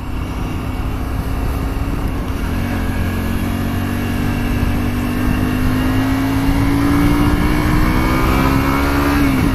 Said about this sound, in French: Petit peu de moto, même si c'est pour faire 4 km.